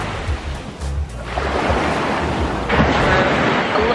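Ocean waves wash onto Kastani Beach on Skiathos on an overcast day, a broad steady surf roar with gusts of wind buffeting the microphone and no voices.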